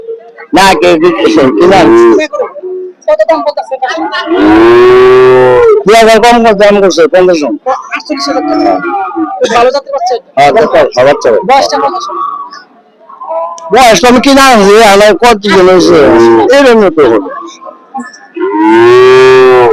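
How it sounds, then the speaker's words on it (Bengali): Cattle at a livestock market moo in several loud, drawn-out calls close by, in between stretches of people talking. "খুব সুন্দর মানসম্মত একটি গরু"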